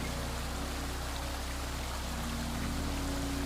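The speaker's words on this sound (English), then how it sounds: "It is a labyrinth of 16 terraced lakes, all connected by a series of cascading waterfalls and emerald pools." Cascading waterfalls linking the terraced lakes of Plitvice in Croatia produce a steady, dense rush of falling water, even and continuous throughout without pauses.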